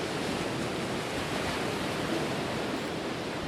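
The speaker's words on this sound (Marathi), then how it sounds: "समुद्राच्या लाटा आणि किनारा यांची सलगी किती अद्भुत आहे ना" Sea waves breaking on a shore along the Maharashtra coast, a steady broadband roar of surf that stays loud and continuous throughout, with no voices.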